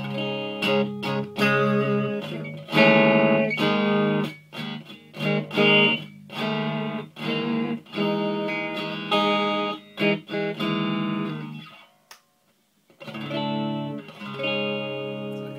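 An electric guitar on its neck pickup plays a series of ringing chords and notes in a clean, warm tone, with short pauses between phrases.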